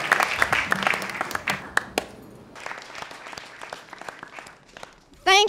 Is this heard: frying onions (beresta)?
no